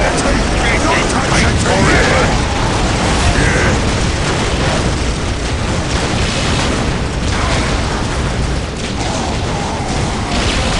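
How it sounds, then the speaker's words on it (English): Orbital bombardment in the Dawn of War video game: a dense, continuous roar of booming explosions and rumbling impacts fills the whole stretch, loud and unbroken, with battle noise piled on top. "Fire the orbital bombardment, immediately!"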